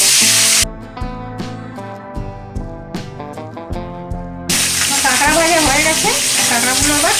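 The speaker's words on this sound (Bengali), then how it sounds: "তেলটা আমার গরম হয়ে গেছে এবার কাঁকড়াগুলো ভেজে নেবো" Loud, steady sizzling of crabs frying in hot oil, with a brief softer stretch near the start before the crackling surges back up.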